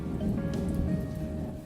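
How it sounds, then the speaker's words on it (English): Light rain patters steadily outside during a UK storm, a soft, faint continuous hiss with scattered drops and no talk. "See, it's raining"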